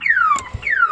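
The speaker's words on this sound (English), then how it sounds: "that's my alarm." A phone alarm going off, two loud descending electronic sweeps, one after another, with a short gap between them and no talk.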